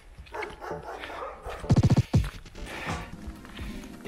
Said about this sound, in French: Les chiens de chasse, ça c'est beau ça.